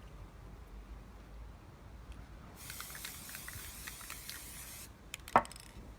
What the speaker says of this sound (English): It's best to use different layers of spray glue.